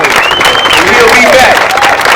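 Crowd applause at an outdoor Black Lives Matter rally in Albuquerque, loud and close, with cheering voices rising over the clapping.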